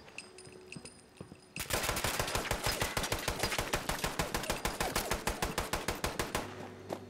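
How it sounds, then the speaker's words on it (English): Rapid automatic gunfire in a video game bursts in suddenly and keeps going as a loud, evenly paced stream of sharp shots, with quieter game ambience before and after. "He's shooting at me."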